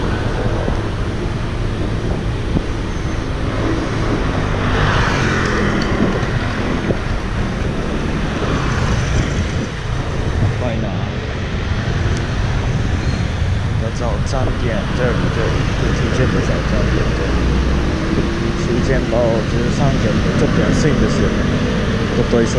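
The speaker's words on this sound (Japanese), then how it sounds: "朝結構車多いんだな。" Busy morning traffic on a Taiwan street near National Chengchi University around 8 a.m. keeps up a loud, constant roar of passing cars and engines, with wind buffeting the microphone and a voice talking at times.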